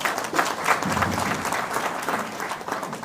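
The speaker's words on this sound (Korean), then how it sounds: "앞에서 지금 같이 힘내시라고 크게 박수 한 번만 드리겠습니다." Steady, full applause from people at a regional Democratic Party meeting, a continuous wash of clapping hands lasting the whole three seconds.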